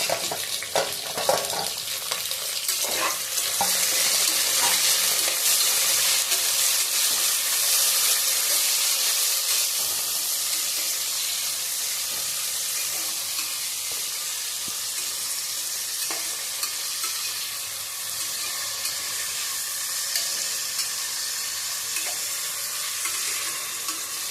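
Chopped onions, green chillies and tomatoes frying in a pan for paneer biryani, a loud continuous sizzling hiss that holds steady throughout with a few faint stirring clicks and no voices.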